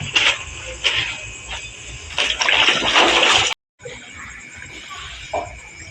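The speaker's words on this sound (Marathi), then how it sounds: "पोरी पाणी भरायला लागल्यात" Water gushes and splashes into household vessels as containers are filled at home in the evening, loud and hissing in bursts, then cutting out briefly before a quieter, steadier trickle resumes.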